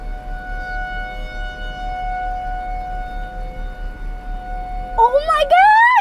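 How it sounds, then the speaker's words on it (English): A Thunderbolt 1000T tornado siren runs a steady, loud outdoor wail during a 3-minute alert test, its held tones joined near the end by another rising siren sweep. "Nothing better than a day with tornado sirens."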